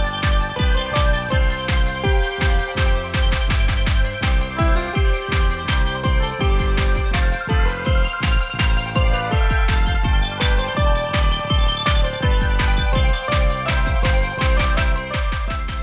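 A bright, looping electronic video game score built on the bass line and chords of a holiday song, with a steady beat, a bouncing bass line and chiming chords, playing loudly and continuously with no voices.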